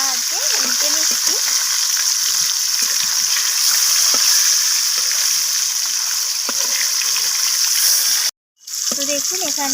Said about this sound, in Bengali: তো মাছগুলোকে আমি খুন্তির সাহায্যে উল্টে নিচ্ছি।